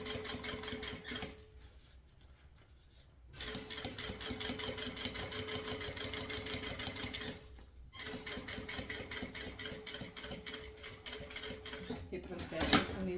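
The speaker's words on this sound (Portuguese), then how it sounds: "Vou vir aqui um pé de máquina e vou passar a costura." A sewing machine stitches a round bag in fast, even runs, a close mechanical whirring rattle that pauses briefly twice before starting again.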